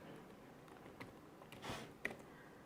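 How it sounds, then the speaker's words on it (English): A password is typed on a computer keyboard with a handful of faint, irregular key taps and a slightly louder final click, quiet and close with no voice over it. "then we type in our password"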